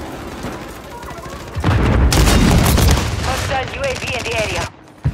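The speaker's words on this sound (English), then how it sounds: "Tossing a decoy!" Decoy grenade thrown in Modern Warfare 3 multiplayer, faking combat noise: loud rattling bursts of gunfire-like pops and booms that last a few seconds and then cut off sharply.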